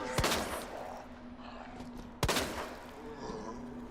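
Gunfire in Resident Evil 2 (2019), two sharp shots about two seconds apart over a dense game background of rumbling ambience, loud and close.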